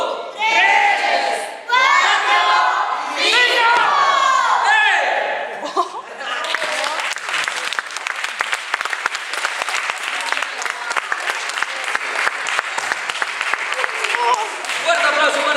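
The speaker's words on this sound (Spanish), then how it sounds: "Fuerte aplauso para todos." A theatre audience breaks into loud, sustained applause after a stage performance, dense clapping filling the hall following a stretch of amplified talk.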